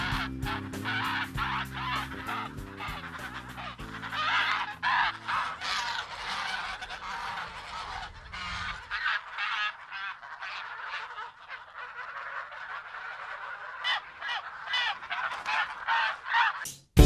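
A flock of free-range geese honks loudly and continuously, with many overlapping calls close by. Some low mechanical hum is present early on.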